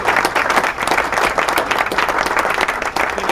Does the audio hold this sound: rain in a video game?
no